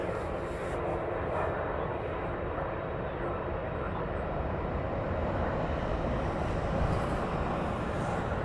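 A jet aircraft being pushed back on the apron at East Midlands Airport at night, heard as a steady distant engine roar and rumble held at a constant level for the whole stretch, with no talk.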